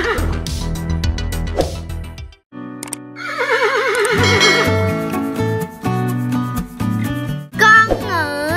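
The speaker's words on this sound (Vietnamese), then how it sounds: "Con ngựa." A horse neighs in loud, repeated whinnies with quavering, falling pitch, separated by short pauses, clear and close against a quiet background.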